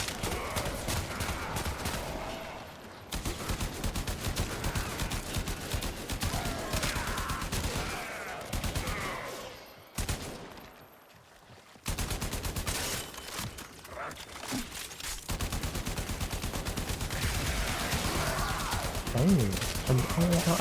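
Rapid bursts of video game gunfire fire at a shield, dense and continuous with brief pauses, under a busy mix of other game effects.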